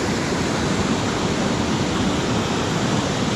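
A waterfall in full spate after heavy rains, a dense, steady roar of rushing water that fills the whole moment at close range, with no talk over it.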